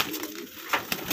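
Malwai Punjabi pigeons coo softly for a moment, close by, with light rustling and no voices.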